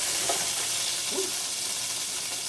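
Onions sauté in a hot pan with a steady, bright sizzle and a couple of faint stirring scrapes, close and continuous for a short stretch.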